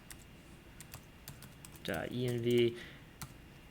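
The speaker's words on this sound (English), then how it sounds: "I'm typing kind of slow because I only have one good hand" Keyboard typing while writing code for a livestream chatbot, light irregular clicks near the microphone with a brief spoken phrase over them partway through.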